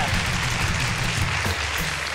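Studio audience applause for a woman on a Spanish-language TV variety show, a dense, continuous roar of clapping hands filling the room, loud and close throughout.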